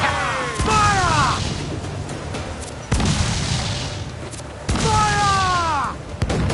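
Ship cannons firing in the Assassin's Creed Black Flag video game, three loud booming volleys at intervals, each followed by a ringing whistle of shells, with shouted crew voices in between.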